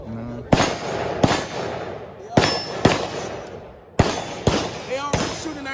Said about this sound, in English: They already shooting and everything like that.